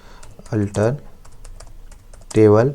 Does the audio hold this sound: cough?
no